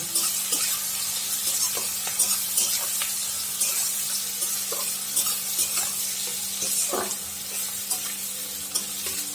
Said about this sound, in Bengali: এই পেঁয়াজগুলো একটু গোল্ডেন ব্রাউন হবে তখন আমি মাংসটা দিয়ে দেব